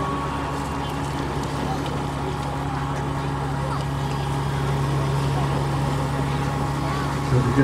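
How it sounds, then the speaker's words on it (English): Shannon class lifeboat William F Yates being moved into final position on its launch carriage at Llandudno, a steady low engine and machinery drone holding throughout, with someone talking over it. "Just now putting the boat into its final position on the carry."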